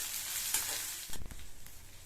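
Onions and curry leaves sautéing in a pan for a pumpkin stir-fry, a steady hiss and sizzle with a spoon stirring and scraping partway through, close to the pan and free of talk.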